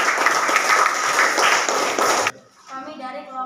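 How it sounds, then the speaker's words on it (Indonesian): Dense, steady clapping from a classroom audience after a group presentation on cultural diversity runs for about two seconds, then cuts off abruptly as a voice begins speaking. "Kasih aplaus"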